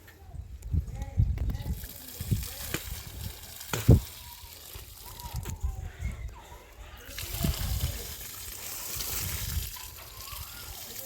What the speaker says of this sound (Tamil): தண்ணி விட்டாச்சு.